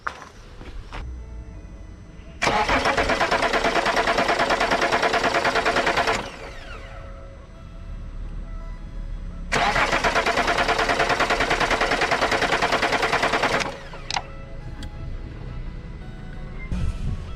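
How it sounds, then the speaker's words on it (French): An Alfa Romeo 159 engine cranks in two long bursts of several seconds each, a loud, rapid rhythmic starter chatter that never catches, with quieter idle-free pauses and clicks between attempts. "on va essayer de démarrer en espérant que ça aspire"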